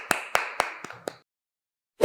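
A first-grade class claps for the winner of a math card game, five sharp, evenly spaced claps in quick succession that stop abruptly, followed by a short pause and a brief final sound.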